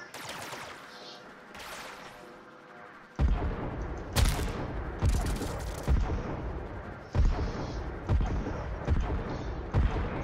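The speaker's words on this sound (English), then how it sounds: "pretty sure I shot that thing a few times" Gunshots in Warframe, a sci-fi shooter: a muffled stretch gives way to a run of loud, sharp shots fired in irregular bursts, each with a booming low thump and a bright crack, mixed with game effects.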